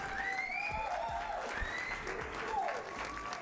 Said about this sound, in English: let's give Kevin a round of applause for that, for helping us out with that.